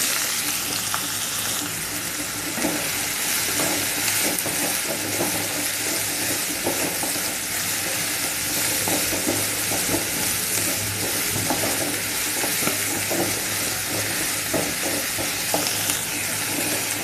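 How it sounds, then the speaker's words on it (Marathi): Three finely chopped medium onions fry in about a ladle and a half of hot oil for egg bhurji, with a steady, close sizzle and occasional stirring scrapes throughout. "कांदा आपला व्यवस्थित भाजून घ्यायचा आहे तेलामध्ये"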